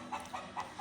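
Desi chickens and their chicks on a poultry farm give a few soft, evenly spaced clucks and peeps over quiet background noise.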